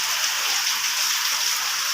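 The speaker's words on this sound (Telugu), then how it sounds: "ఇవాళ హైదరాబాద్లో ఈ టైంకి ఘోరంగా వర్షం పడుతుంది." Heavy rain falls in Hyderabad during a windy storm, a dense, steady hiss of downpour close by with no break and no voices.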